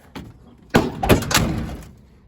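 A 1978 Ford F-150 pickup truck door swings and shuts with a heavy metallic clunk and a short rattle, close by and loud.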